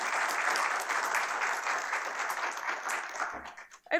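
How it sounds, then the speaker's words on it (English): Applause from an audience at a journalism ethics keynote event, a thick steady round of clapping that carries on for a few seconds and then thins and breaks off toward the end. "please all give them a round of applause"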